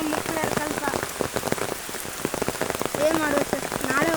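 Heavy rain patters on a surface close by, a steady clatter of drops with voices talking over it throughout.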